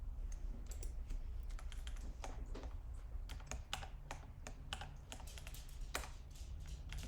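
Steady, rapid typing on a computer keyboard while writing Python and Java code, with fast, uneven key clicks continuing throughout at a quiet level, no voices.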